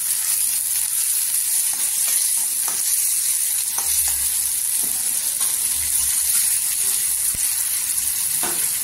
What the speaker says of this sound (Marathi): इथे टमाटर टाकायचं, टमाटर सॉफ्ट होण्यासाठी मीठ टाकायचं, चवीनुसार टाका आणि तेलावर परतून घ्यायचं